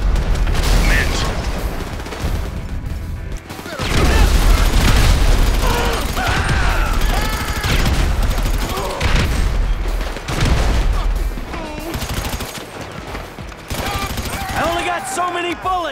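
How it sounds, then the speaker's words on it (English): Gunfire in Grand Theft Auto V, with scattered volleys of shots and bursts over a loud, busy mix of clatter and rumble, while several voices shout and talk across the scene. "So many bullets!"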